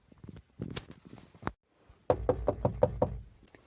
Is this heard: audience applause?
no